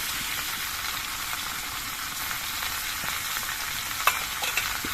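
Drumsticks and potatoes sautéing in a pan with turmeric, chilli paste and cumin paste give off a steady, even sizzle, with a few faint scrapes from stirring near the end.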